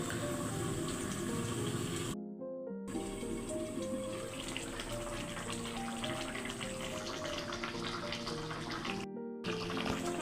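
Water pours steadily and loudly into a pan of hilsa fish curry, a continuous rushing splash that breaks off briefly twice before resuming.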